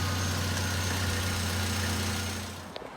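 A car engine idles steadily while warming up to temperature, close and continuous, a low droning hum with no voices.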